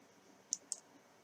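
Two quick, faint computer mouse clicks a fraction of a second apart in a quiet room.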